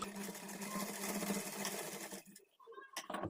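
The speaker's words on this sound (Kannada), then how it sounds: "ರಫ್ ಸ್ಟಿಚ್ ಹಾಕ್ಕೊಂಡು ಸ್ಟಿಚ್ ಮಾಡ್ಕೊಳ್ಬೇಕು" Close and steady, a sewing machine stitches a folded blouse hem strip for about two seconds, then stops, leaving a few quiet handling sounds.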